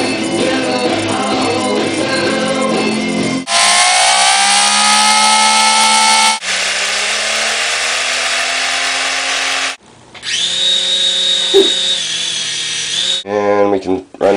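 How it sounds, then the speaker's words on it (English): A small turbine spins up under power, with whining tones that rise and change in sweeping stages, loud and close, with brief pauses between runs. "And we can run it up by giving power to the turbine."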